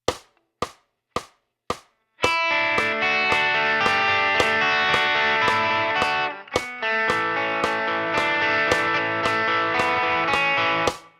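Four muted picked notes, then a distorted electric guitar plays the interlude riff of a rock song in an open shape with sustained chords, a brief break, then the riff resumes.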